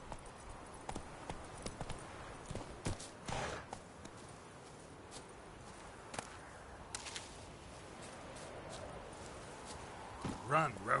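Hooves of the horse Roach in the game Witcher 3 Wild Hunt, clip-clopping unevenly and fairly faintly, with a few louder thuds and snorting sounds over an ambient bed.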